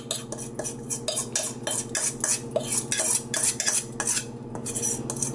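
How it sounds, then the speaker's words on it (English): A utensil scrapes and stirs pasta coated in egg carbonara sauce in a metal pan, producing rapid, close, continuous scraping and clinking strokes with a faint background hum and no talking. "Scrape it up really well."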